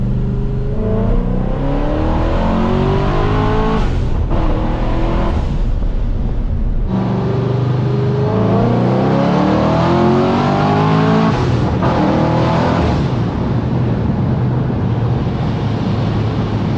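A supercharged LS-powered Pontiac GTO running on E85 roars loudly and close, its engine climbing through repeated rising revs and accelerations with brief dips between pulls, continuous and uninterrupted.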